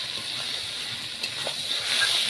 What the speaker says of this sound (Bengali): এখন মটনগুলো দিয়ে দিচ্ছে, দেখুন মটনটা দিয়ে মা ভালোভাবে নাড়াচাড়া দিয়ে দিচ্ছে এখন